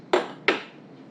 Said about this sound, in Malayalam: അപ്പൊ നമ്മൾ സ്റ്റവ് ഓണാക്കി നമ്മൾ വറക്കാനുള്ള പാത്രം വെച്ചു.